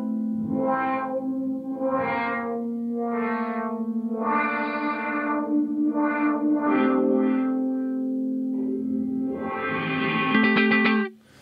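A Chase Bliss Dark World pedal set to a resonant infinite sustain reverb holds a droning wash beneath a run of distinct notes, each one ringing on and building into a dense, shimmering layer that swells near the end.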